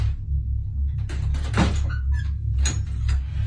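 A door is opened and shut a few times over a constant low hum, producing soft scraping slides and dull knocks, with a brief brighter click near the end.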